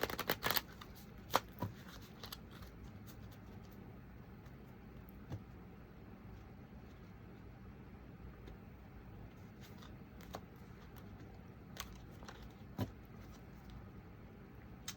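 Tarot cards are shuffled for a reading, with soft riffling and several sharp card snaps and taps spread across a quiet room, faint and close.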